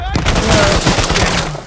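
A bomb detonates in a video game, a loud, dense burst of booming, crackling blasts like a volley of gunfire that sustains for over a second, with rumbling low end throughout.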